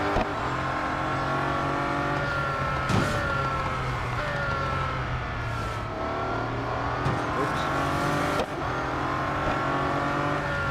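Race car engine from the Real Racing 3 mobile game at a speedway, a loud, continuous high revving whine with shifting pitch throughout a head-to-head race.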